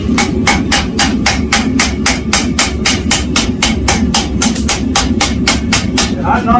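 A blacksmith's hammer strikes hot steel on an anvil in a steady, rapid series of about two dozen sharp, light ringing blows to set a forge weld, loud and close, with a voice faintly audible near the end.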